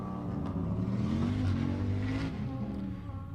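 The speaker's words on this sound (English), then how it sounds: "Little orange Nova out there on the track." Little orange Chevrolet Nova running an autocross course, its engine roaring loud and steady throughout, holding a continuous revving drone close by with no talk over it.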